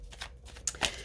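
A deck of tarot cards being shuffled up close, giving a quick run of soft papery riffles and flicks with a sharper slap near the end, quiet and without speech.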